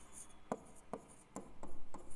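Pen strokes on paper while a word is handwritten during a Hindi lesson, a series of short, soft scratching taps roughly every half second, close and quiet, with no talking.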